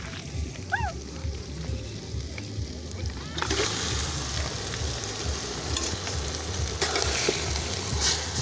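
Marinated mutton spiced with ginger, garlic and chili paste hits hot oil at an outdoor picnic cookout, the quiet background jumping into a loud, steady close-up sizzle that continues with stirring.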